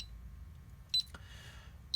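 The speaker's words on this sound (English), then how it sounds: "it will beep at us here for the entire 60-second exit delay time" A DSC alarm keypad, LED PK5508 model on a 1616/1832/1864 system, gives short high electronic beeps during its 60-second exit delay, two chirps about a second apart over a low background hum.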